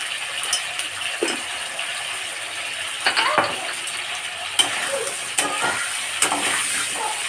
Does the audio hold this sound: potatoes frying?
yes